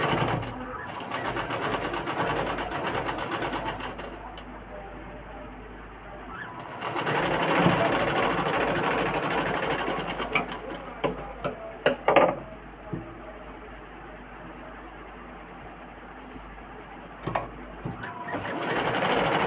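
A sewing machine stitches a garment in fast, whirring bursts: a run of several seconds, a pause, a second long run, then a short start at the end, with lighter clicks and handling between.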